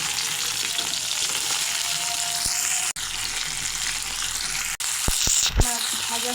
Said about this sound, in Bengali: একটু ভাজা হয়ে গেছে, এখন উল্টিয়ে দেব।